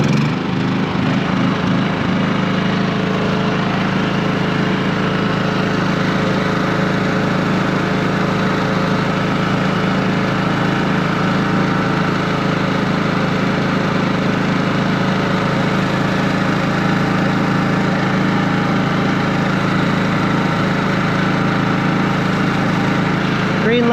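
Firman dual fuel generator running steadily after a warm start, a loud continuous engine drone with a strong low hum, close by and unbroken for the whole stretch.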